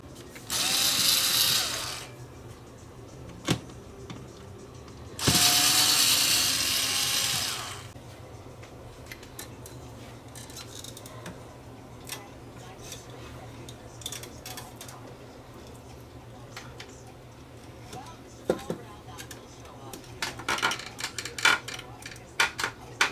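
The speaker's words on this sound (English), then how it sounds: "I need to take out the real table assembly so I can get to the motor to lubricate it" A Sony SL2710 front-loading VCR is taken apart to remove its reel table assembly: two loud whirring bursts like a small power driver, then scattered close clicks, taps and rattles of parts and tools.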